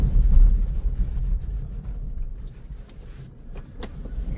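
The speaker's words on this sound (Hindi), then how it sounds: "एक गाड़ी सामने से और आ रही है, एक गाड़ियां आती है, धूल भी आती है" A car rumbles past on a dusty road, its low engine roar strongest at first and then fading as it moves away, with no talking.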